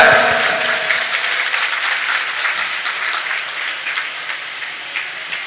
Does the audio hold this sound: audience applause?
yes